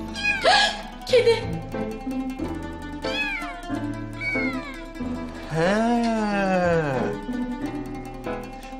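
A cat meows several times in an indoor scene from a Turkish TV drama, with one long, loud, rising-and-falling meow near the end, while people talk throughout.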